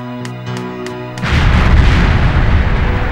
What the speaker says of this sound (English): With prodigious force, the bomb explodes and the four are thrust onto the ground by the blast